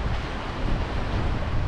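Riverbank outdoors with steady broadband rush of flowing water and wind buffeting the microphone, continuous and fairly loud with no voices.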